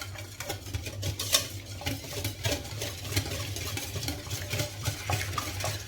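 Yogurt chicken marinade with chilli powder, salt and spices being beaten in a bowl, giving steady close scraping and slapping strokes with small utensil clinks, with a low hum running underneath throughout.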